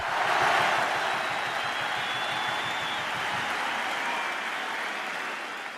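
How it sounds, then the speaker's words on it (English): A stadium crowd at the 2007 Rugby World Cup in Montpellier roars loudly and continuously through Tonga's Sipi Tau war dance, easing off slightly toward the end. "after the roar of the crowd and a dramatic closing of the gap between the two teams"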